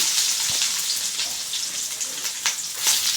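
Onions fry in a pan of hot oil, giving a constant bright sizzling hiss with scattered crackles and small pops throughout.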